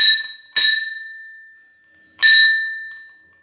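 Two clear metallic strikes of a temple bell at a Shani Dev shrine ring out, each with a bright, sustained tone that slowly decays, the second coming about one and a half seconds after the first, near and loud.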